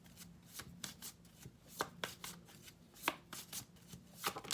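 Tarot cards being shuffled by hand, a quick series of crisp riffling bursts and soft slaps at an uneven rhythm, close and fairly quiet, with no talk.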